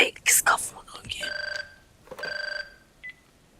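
A phone rings indoors with two bursts of a pulsing electronic ring, after brief voices and rustling, then a short final chirp. It sounds close and clear.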